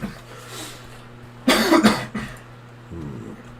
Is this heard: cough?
yes